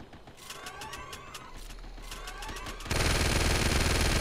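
Rapid mechanical rattling bursts of turret gunfire from the Uncharted 3 multiplayer beta, a run of repeated clicking shots that gives way to a loud, dense roar of sustained fire near the end.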